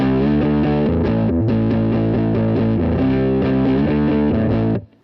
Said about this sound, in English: on the neck, since there's this full humbucker, what you get is a very woofy low end sound.